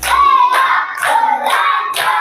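A class claps in a rhythmic pattern of five sharp bursts of clapping at an even pace, loud and close, with no talking.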